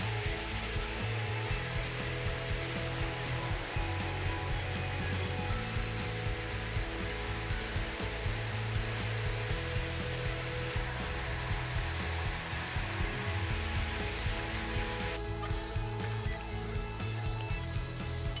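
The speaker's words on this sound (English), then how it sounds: "the chopped and dedusted straw is distributed evenly over the lying surface via flexible hoses" Strohmatic Air bedding system blowing chopped, dedusted straw through flexible hoses over a lying surface, a steady loud roaring whoosh of air with a rushing hiss that continues unbroken throughout.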